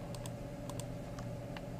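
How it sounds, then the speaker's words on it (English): A few quick clicks of a computer keyboard and mouse sound at an even pace during shift-clicking on a computer, close and fairly quiet, with nothing else heard. "I'm going to go through and start shift clicking"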